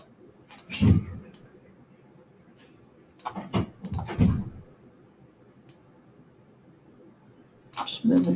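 Computer mouse clicks and drags while arranging a graphic design layout, a few faint, scattered clicks beneath intermittent speech from a nearby talker.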